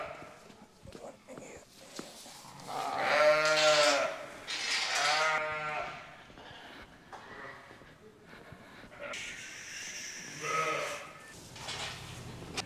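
Several sheep, ewes and tups, bleat loudly in drawn-out, wavering calls while being unloaded, with quieter bleats and shuffling hooves around them.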